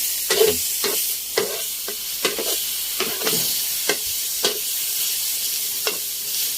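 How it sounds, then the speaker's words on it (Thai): Pork belly stir-fries in a hot pan until fragrant and releasing its fat, with a steady bright sizzle broken by regular, close scraping strokes of the spatula. "พิมก็จะผัด สามชั้นให้มันหอมก่อนนะ"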